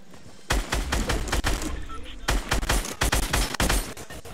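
Automatic gunfire in Fortnite Battle Royale, with two long bursts of rapid, loud shots separated by a short pause, plus voices from players talking during the fight.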